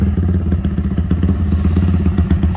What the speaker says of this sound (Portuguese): a moto pegou facinho